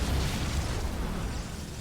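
Cannons exploding in a StarCraft match, a dense, rumbling burst of blasts that fades slightly toward the end of the brief stretch.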